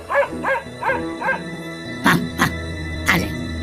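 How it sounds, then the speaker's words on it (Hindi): A cartoon dog barks in a run of yippy, high barks, first four evenly spaced, then a few sharper, louder ones, set against a steady tonal background. "कुत्ता भौंक भौंक कर दोनों की लड़ाई बंद कराने की कोशिश करता है।"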